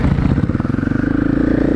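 A motorcycle engine rumbles close and loud, its pulsing throb quickening as the revs climb.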